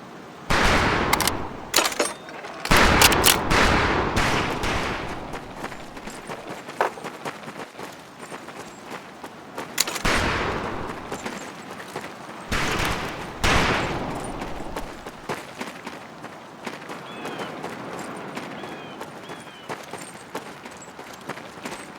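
Rifle practice gunfire on a boot camp range in Medal of Honor: Pacific Assault, with repeated sharp shots and bursts scattered through the stretch, loud at times, against a steady background din.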